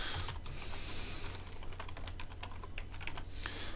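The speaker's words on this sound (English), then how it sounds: "You'll notice that you can just type in this document." Steady computer keyboard typing while working in a Google document, a continuous run of quick close key clicks with no talking.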